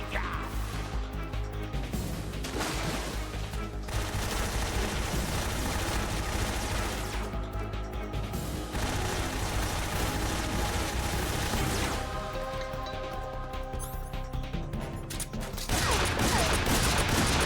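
Tommy gun fire in Metal Gear Solid 3 during gameplay, heavy bursts of gunfire and crashes mixed with game music and effects, loud and sustained, with a louder burst near the end.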